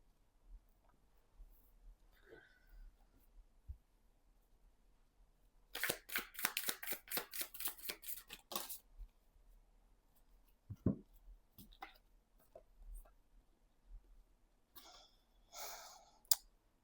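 Tarot cards being shuffled, with a rapid run of soft riffling clicks in the middle, then scattered taps and flicks as cards are drawn, faint and close.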